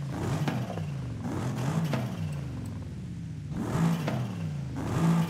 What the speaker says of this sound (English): The engine should be able to rev up much quicker with the lighter flywheel.